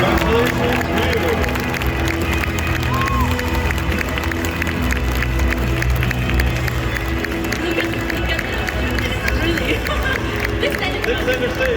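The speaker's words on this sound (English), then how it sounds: "a big round of applause for Ryu" Crowd applauding at a cosplay contest at a gaming festival, continuous loud clapping and cheering from a large audience with babble mixed in, filling the whole stretch.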